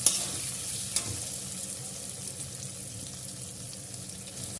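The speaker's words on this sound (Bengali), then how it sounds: "পেঁয়াজটা দিয়ে ভাজতে থাকবো।" Chopped onion frying in hot oil for a spicy prawn and potato curry, a steady close sizzle with a couple of sharp spatters near the start and no talking.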